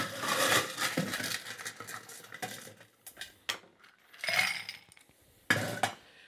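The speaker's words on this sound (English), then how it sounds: "We're going to put fresh ice in there." Fresh ice drops into a rocks glass for a Blue Caribbean Sunset cocktail, giving a few separate clinking and rattling bursts with short quiet gaps between them, close and fairly soft, with no talk.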